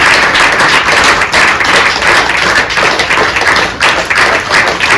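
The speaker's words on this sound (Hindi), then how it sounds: "तालियां बजती रहनी चाहिए।" Loud, close applause from the audience at a yoga session, a thick wash of hand claps with sharp individual slaps that keeps going at full strength the whole time.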